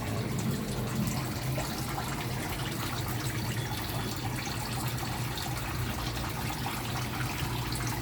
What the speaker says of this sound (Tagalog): Ayan yung water pump natin.